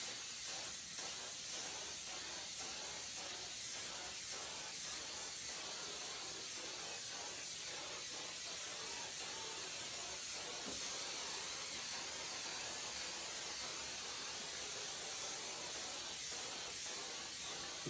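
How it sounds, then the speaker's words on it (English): Aqua Net hairspray hisses steadily from an aerosol can into a broom, one continuous loud spray running without a break. "I'm going to spray Aquanet hairspray into the broom here"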